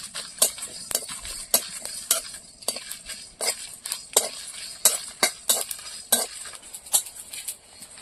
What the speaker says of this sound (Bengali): এবার একসঙ্গে ভেজে নেব